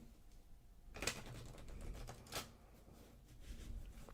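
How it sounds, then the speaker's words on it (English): A deck of playing cards gets a riffle shuffle: two quick, crisp fluttering bursts, close and quiet against a soft background. "we'll actually give it a Ripple Shuffle as well"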